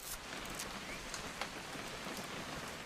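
Steady rain falling in the video game What Remains of Edith Finch, a constant soft hiss of drops on surfaces with occasional louder splats, heard alone without any voices.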